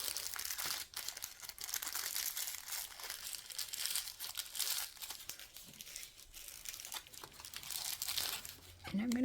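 A plastic piping bag is handled and prepared for piping resin petals, giving a steady run of close crinkling and rustling, with a brief voice near the end.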